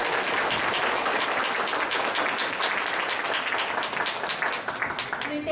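An audience applauds after a presentation at a business competition event, with sustained dense clapping from many people throughout that thins slightly near the end.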